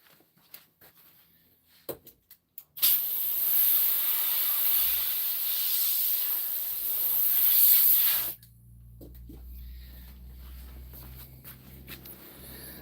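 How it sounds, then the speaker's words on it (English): Air compressor nozzle blasting air to dry a worked fire rock, a loud steady hiss lasting several seconds, preceded by faint clicks and followed by a low rumbling background. "I might just use the air compressor to dry it."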